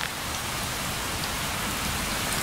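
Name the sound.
rain falling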